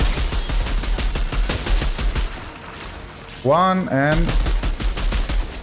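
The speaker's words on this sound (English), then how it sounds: "Freezing shots." Repeated gunfire from freezing shots in the video game Outriders crackles in a fast, steady rhythm throughout, briefly interrupted by someone speaking over it.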